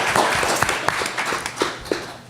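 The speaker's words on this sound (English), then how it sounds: "How about a round of applause for our wonderful panel?" An audience applauds a panel at a music industry discussion event, scattered claps rising briefly in a short, moderate burst before fading, with little talk over it.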